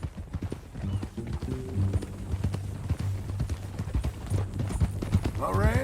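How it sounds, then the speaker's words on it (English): Horse hooves clip-clop steadily in Red Dead Redemption 2. The rhythmic hoofbeats run under talking voices and a low musical drone, with a brief whinny-like sound at the end. "That new horse?"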